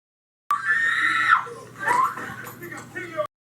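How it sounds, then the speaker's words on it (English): An 8-year-old boy's high-pitched scream during a police encounter rises sharply, breaks off, then returns in shorter wailing bursts, loud and close. "Hear that scream?"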